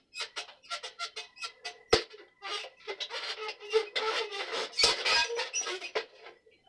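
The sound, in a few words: squeaking of a Conn tenor saxophone part being wiggled loose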